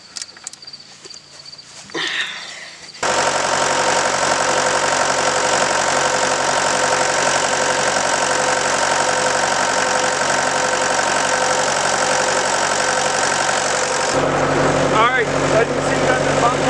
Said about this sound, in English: the machine seems to be running pretty good now